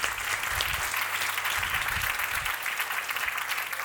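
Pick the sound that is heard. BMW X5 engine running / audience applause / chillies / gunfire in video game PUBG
audience applause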